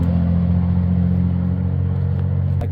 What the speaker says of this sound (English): Sounds like a brown truck.